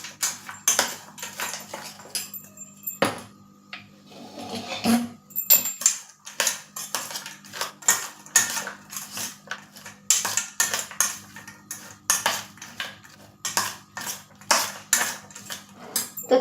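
A spoon stirs and tosses crunchy Kurkure chaat ingredients in a bowl, giving a steady run of light, close scraping clicks and crackles that repeat in quick irregular bursts with no voice over them.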